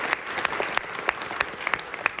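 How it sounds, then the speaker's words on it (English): A crowd at a rally against antisemitism breaks into applause, a dense, steady patter of many hands clapping close by for a couple of seconds. "give all of yourselves a round of applause"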